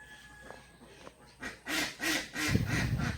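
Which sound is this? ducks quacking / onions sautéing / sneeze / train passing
ducks quacking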